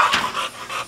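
A bulldog pants quickly and close by in short, breathy rhythmic puffs, alone with no talking.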